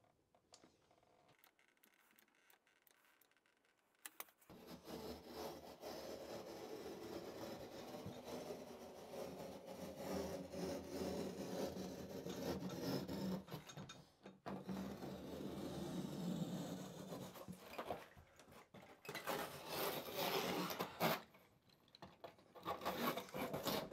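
Waterproof HydroBlok tile backer board is being cut, giving a steady, close rasping and sawing scrape that runs for about twenty seconds, after a quiet start, with brief pauses near the end.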